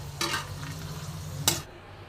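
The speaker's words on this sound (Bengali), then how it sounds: "এই তেলেই আমি চীনা বাদামগুলো উল্টে পাল্টে ভালো করে ভেজে নেব" Peanuts fry in a little oil in a pan with a faint sizzle, and two sharp stirring scrapes sound close by over the quiet background.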